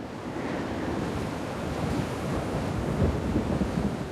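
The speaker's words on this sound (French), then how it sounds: "De violentes rafales de vent balayent la saison sèche dans le Ruaha." Strong wind roars steadily and loudly, buffeting the microphone in rough gusts, with a broad rushing noise and no voices, on the plains of Ruaha, Tanzania, in the dry season.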